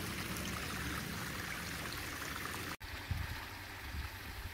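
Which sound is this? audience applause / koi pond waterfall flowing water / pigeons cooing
koi pond waterfall flowing water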